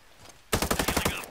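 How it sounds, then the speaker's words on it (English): Rapid automatic gunfire from the tactical shooter video game Ghost Recon Breakpoint, a loud burst of about ten quick evenly spaced shots that starts abruptly after a quiet moment. "I hear gunfire."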